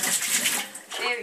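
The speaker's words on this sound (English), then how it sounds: "Alright, we'll rinse you off." Running water rinsing a young child in a bathtub, a close, steady splashing wash under a brief bit of speech.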